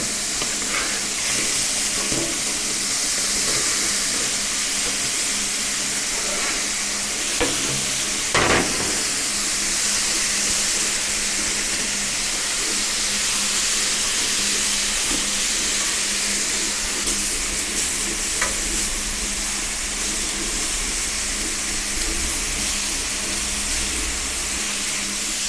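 Pineapple slices sizzling on a Pit Boss Ultimate Griddle without oil, a loud, continuous hissing fry that holds steady throughout, with a few light clicks and taps of a utensil and no talking.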